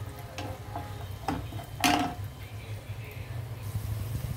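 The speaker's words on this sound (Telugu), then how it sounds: "కొద్దిగా వేగనిద్దాం" Cashew nuts frying in a pan for a cashew and eggplant fry, giving a soft steady sizzle under a low hum, with a few light stirring clicks and one sharper scrape partway through.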